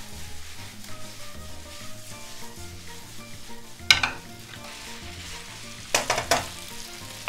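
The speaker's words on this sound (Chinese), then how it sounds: "开始翻炒哈。" Prawns stir-fried in a pan for linguine sizzle and fry steadily throughout, with a few sharp clanks of utensil against pan as the food is tossed.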